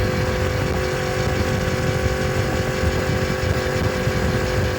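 Motorcycle riding at speed, recorded on an Insta360 X5 camera: a steady low engine drone buried under loud, constant rushing wind noise that fills the whole clip with no pauses.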